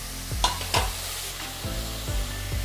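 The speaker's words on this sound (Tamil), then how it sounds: "நல்லா வதங்கட்டும்." Ingredients sautéing in a pan for kumbakonam kadappa, a steady bright sizzle with a few scraping stirs of a spatula, close and loud with no talking.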